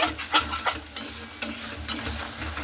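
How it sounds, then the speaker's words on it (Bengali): A spice mix of salt, turmeric and Kashmiri chilli is sautéed in a pan for an egg curry, with a steady sizzle broken by repeated scraping stirs of a spoon, close and moderately loud. "এবারে খুব ভালো মতো করে মশলাটা এইভাবে আমি কষিয়ে নিচ্ছি।"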